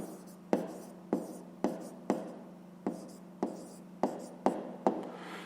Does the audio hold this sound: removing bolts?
no